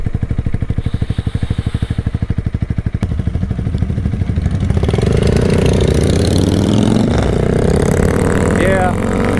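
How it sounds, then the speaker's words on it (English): A Honda Rebel 300 motorcycle engine putters in a steady rapid rhythm close by, then rises into a louder running roar as the bike pulls away, with a voice talking over it. "look, mom, there's another motorcycle"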